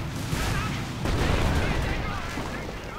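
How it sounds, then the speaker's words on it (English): Panzerschreck anti-tank rockets in a World War II strategy game set off heavy booming explosions and gunfire in a dense, continuous battle din, with a louder burst about a second in and someone talking over it. "Their cover blown away by Panzerschreck."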